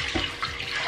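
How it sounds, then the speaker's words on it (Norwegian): About a liter of water pours into a large white bowl while pretzel dough is prepared, a steady close splashing gush throughout. "Ta først 1 liter med vann oppi."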